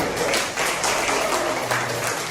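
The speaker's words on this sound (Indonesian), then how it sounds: "kita kasih tepuk tangan dulu" A school class briefly claps hands together, a short burst of overlapping clapping from many students in a classroom, moderately loud and steady.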